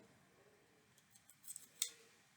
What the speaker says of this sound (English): I'm just going to cut the tag end off.